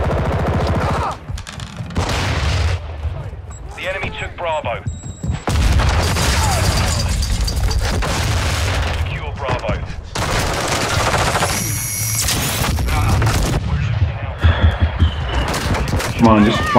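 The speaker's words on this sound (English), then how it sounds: "I'm shooting him!" Heavy gunfire and explosive booms from Call of Duty Modern Warfare 2 (2022) multiplayer, with the X13 pistol in play: rapid bursts and loud blasts running throughout, with someone talking excitedly over the action.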